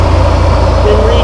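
The motor of a road line-striping machine runs steadily, a loud, close, low idling rumble in a brief burst.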